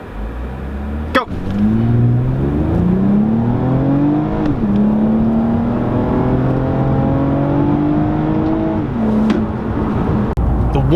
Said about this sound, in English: Let's do a 0 to 60 in 3, 2, 1,